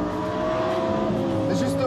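A Lamborghini Huracan Performante's mid-mounted V10 pulls out of a curve, its engine note steady and fairly close beneath someone narrating in French.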